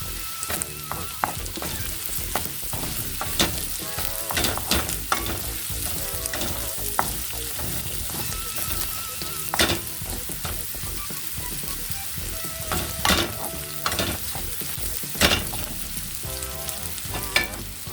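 Ginataang gabi, taro root in coconut milk with long chili, sizzles and bubbles in a pan while a spoon scrapes and stirs in repeated strokes, close and steady with no talk.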